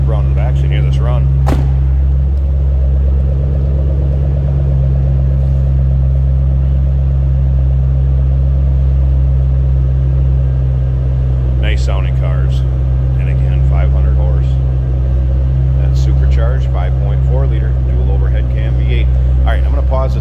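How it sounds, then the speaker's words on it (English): A 2007 Ford Mustang Shelby GT500 convertible, heard from the rear, runs with a deep, constant low rumble, while a person talks intermittently over the engine. "Flip around to the back so you can hear this run."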